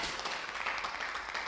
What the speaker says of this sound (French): Applaudissez pour Jésus